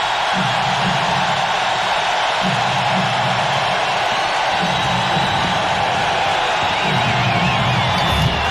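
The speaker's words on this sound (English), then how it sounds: "Listen at this crowd." A packed basketball arena crowd roars and cheers during a 1993 NBA playoff game between the Boston Celtics and Charlotte Hornets, a loud, constant wash of noise with rhythmic chanting swells rising and falling through it.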